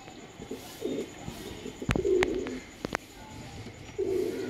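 Soft, low cooing from Sialkoti pigeons comes in several short bouts, with a few sharp clicks and faint chirps in between against quiet background noise.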